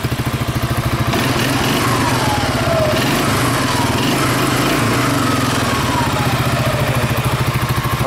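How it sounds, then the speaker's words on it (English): A quad's small engine idles steadily up close while warming antifreeze through the block, a loud, even, rapid chugging pulse that runs unbroken throughout. "we're running it till it warms up and gets that mix into the block to make sure that the engine doesn't get harmed"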